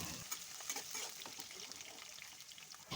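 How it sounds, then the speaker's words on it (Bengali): Chopped carrots sizzle quietly in a pan as they are stirred, soft frying crackle with light scraping, fairly faint and steady, with no talking. "এবারে আমি এর মধ্যে দিয়ে দেবো কেটে রাখা গাজরটা দিয়ে বেশ হালকাভাবে একটুকুনি নাড়াচাড়া করে ভেজে নিতে হবে"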